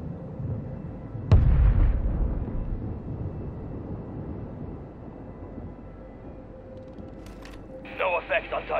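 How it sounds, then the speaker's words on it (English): A mortar strike lands in the Call of Duty video game as one sudden, heavy blast. A low rumble follows and slowly fades, and brief game voices and effects come in near the end. "Requesting fire mission! Target marked! Solid drop. Mortar strike on the way."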